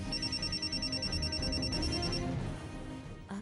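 A telephone rings with an incoming call, a steady electronic ring repeating for about two seconds over a murky background before it fades into low hum.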